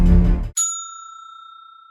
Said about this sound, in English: Trinity couldn't resist hitting the bell on the front desk.